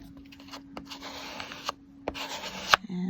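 Paint is swiped and scraped across a surface, a close rasping drag in several strokes, punctuated by sharp little clicks and pauses.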